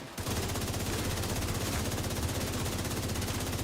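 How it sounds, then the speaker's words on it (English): Russian gunfire during a video game mission: a loud, rapid, unbroken burst of automatic fire with evenly spaced shots rattling close by for several seconds. "Russian shooting"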